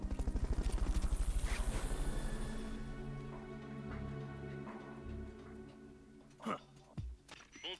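A Fulton recovery helicopter in Metal Gear Solid: Peace Walker thumps loudly with a steady rotor beat for about two seconds, then fades into softer background game sounds and a few short knocks.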